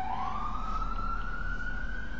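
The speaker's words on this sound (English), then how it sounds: "Sirens. What's going on?" A single siren tone sweeps upward and holds, steady and fairly close, over a low rumble of traffic.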